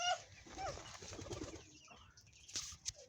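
Pigeons kept at home make faint, soft cooing calls and brief wing flutters over a low, steady background hum outdoors.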